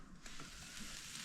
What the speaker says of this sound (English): And if it sizzles like that, It's hot.